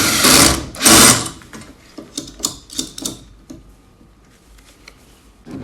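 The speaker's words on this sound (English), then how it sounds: "all you have to do now is tighten up that 1/2-inch nut again" A ratchet tightens a 1/2-inch nut on a garage door opener chain, giving bursts of quick, close clicking at the start and then shorter clicking runs that taper toward quiet.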